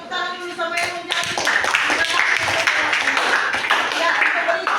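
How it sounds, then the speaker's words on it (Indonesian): A classroom group claps hands for a student who answered, a brisk round of clapping that builds and continues under voices chattering and cheering. "coba tepuk tangan dulu sama yang menjawab"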